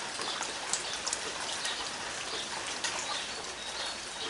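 Steady rain falls outdoors near a duck enclosure, a dense continuous hiss of drops with a few brighter pattering hits and faint birdlike chirps, no talking.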